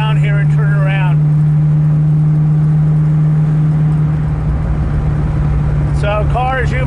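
A 1994 Bondurant Mustang with a 5-speed manual, driven at a moderate pace, gives a steady, droning engine hum with a strong low tone. Voices speak over it at the start and again near the end.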